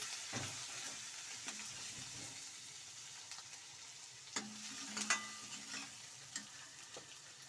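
Onions fry in a pan with a steady, close sizzle, broken by occasional scraping stirs and light clinks of the utensil against the pan.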